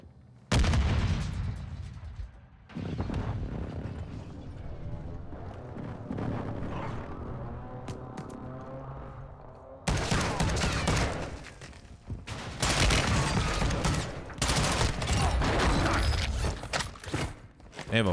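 Gunfire in a battle royale video game: loud close bursts and rapid volleys broken by short pauses, with scattered heavier cracks and rumbling echoes.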